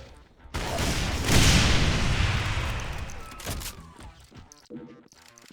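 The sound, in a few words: grenade explosions in a Doom mod, video game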